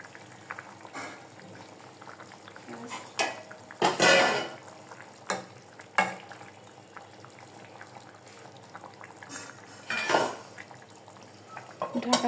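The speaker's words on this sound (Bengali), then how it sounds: "ঝোলটা ফুটে গেছে, এখন আমি মাছটা অ্যাড করে দেব।" Fish going into a cauliflower and potato curry boiling in a pot, with a steady low bubbling and several louder splashes, clatters and knocks of utensil against pot scattered throughout.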